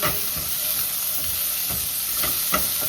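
Garlic sautés in a pan for pork rib sinigang, giving a constant loud sizzle and hiss with intermittent stirring scrapes.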